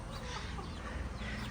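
Chickens cluck steadily from nearby at a farm near the hot springs in Pai, Thailand, a dense layer of fowl sounds running the whole time at moderate level over a broad, noisy background.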